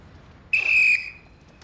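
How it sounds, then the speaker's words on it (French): A single sharp whistle blast, loud and steady for about half a second, then cutting off in a quiet space. "12e coup de sifflet"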